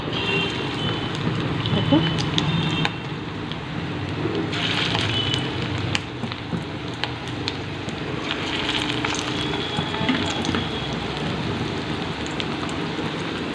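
Small gram flour fritters with onion, ginger-garlic paste, salt and chilli powder fry in hot oil in a home kitchen. They give a continuous, close crackling sizzle like light rain, with a voice speaking softly over it at times.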